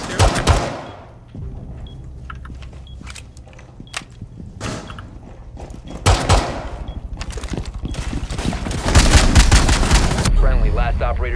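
Rainbow Six Siege gunfire on the Border map: repeated bursts of automatic fire and sharp single shots, loud and close, with footsteps and mechanical clatter in between and rapid sustained firing toward the end.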